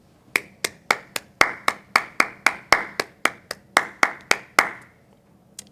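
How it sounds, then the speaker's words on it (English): Sparse clapping from a few hands at a community college president's address, crisp individual claps in a steady rhythm of about three per second, close and clear, stopping before the end. "please join me in giving Dr. Dukes a round of applause for all that she has done in moving the college forward."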